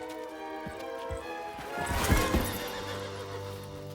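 A horse neighs loudly, a long whinny rising and fading, with a few hoof clops and thuds around it.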